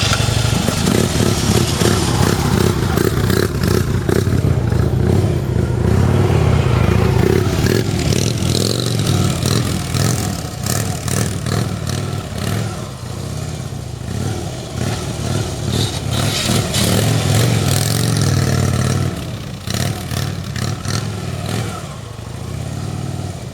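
A Harley motorcycle making repeated U-turns up and down a hill, its engine rumbling loudly and steadily close by, with some clatter and rising revs along the way and no talk.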